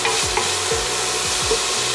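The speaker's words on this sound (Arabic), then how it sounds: "بصل الجزر الشامبينيون والبصل هلا اقلبهم هون مع الزبدة" Onion, carrot and mushrooms stirred in butter in a pan, a close soft sizzle with a few quick scraping stirs of a utensil in a loose rhythm.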